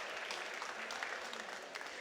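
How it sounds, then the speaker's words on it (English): Steady applause from a conference audience, a continuous even patter of many hands clapping at moderate volume, sustained for a couple of seconds. "Please give him a round of applause."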